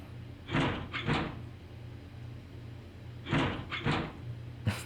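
Locked doors being tried in the puzzle game 999: two pairs of quick rattling clunks, each pair a rapid double knock of a handle that won't give, separated by a pause over a low ambient hum.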